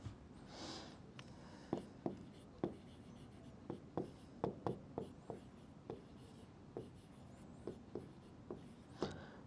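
Chalk or marker scratching on a board in a maths lesson on triangles, a series of short rhythmic strokes spaced about half a second apart, close and fairly quiet, with a faint background hiss.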